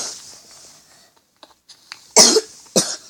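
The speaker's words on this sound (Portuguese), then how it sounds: "Eu tô meio tossindo." A person coughs twice near the end, sharp and close, after a few faint clicks and a stretch of quiet, with some airy noise at the start.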